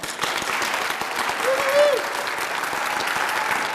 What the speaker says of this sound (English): And we also have to give a huge round of applause for our wonderful accompanist, Emily McConkey.